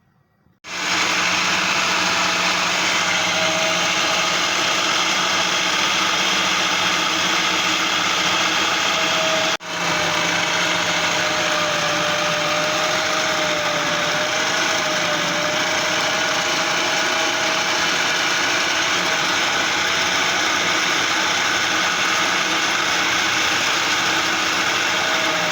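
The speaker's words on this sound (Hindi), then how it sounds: "तमाम मिक्सचर को अब हम एक चॉपर में ऐड करेंगे।" An electric chopper grinds a kofta meat mixture with a little cooking oil, its motor whirring loudly and continuously, with one brief dip partway through and then a steady run to the end.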